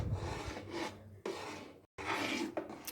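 Spoon stirring khoya kheer in a pan, a soft scraping rasp in repeated strokes with brief pauses, close and faint, without any talk.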